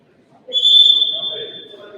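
Referee's whistle at a high school varsity wrestling match, a single loud sustained shrill blast that stops play, over crowd murmur in a gym.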